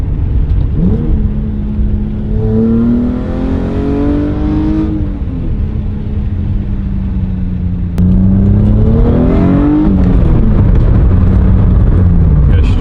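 A Toyota MR2 fitted with a new exhaust launches and accelerates hard, engine pitch sweeping up through the revs, dipping at a gear change and then climbing again, loud and close.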